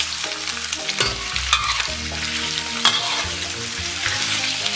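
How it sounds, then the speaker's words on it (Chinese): Slices of pork belly hit warm oil in a wok and fry with a bright, continuous sizzle, broken by sharp spatula scrapes and clatters as the meat is stirred. "油温三成热，咱们把五花肉给它下里边"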